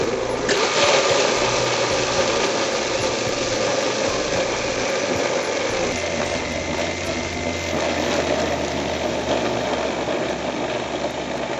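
A mixer grinder churns milk, ice and mango for mango ice cream, a loud, steady whirring motor with gritty grinding and rattle throughout, straining slightly as the heavy ice breaks up.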